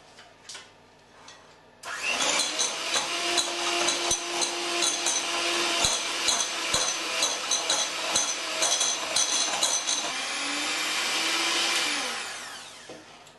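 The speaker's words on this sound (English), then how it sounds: "Now I'm just going to give it a really good whisk." A bowl of date cake mix is whisked hard after the ingredients go in, a fast rattling clatter of whisk against the bowl that starts abruptly, runs steadily for about ten seconds and then fades.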